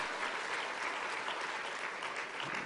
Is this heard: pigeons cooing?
no